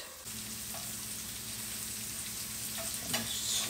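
Rutabaga fries in a pan with a steady close sizzle, joined near the end by a few scraping stirs. Nobody speaks.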